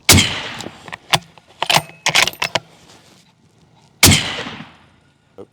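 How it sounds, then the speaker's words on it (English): A Tango 51 .308 bolt-action rifle fitted with a titanium custom suppressor fires a sharp, loud report up close. A clatter of metallic clicks and rattles follows, then another strong muffled crack that decays into quiet. "Tango 51 308 bolt action rifle with a Tango 51 titanium custom suppressor"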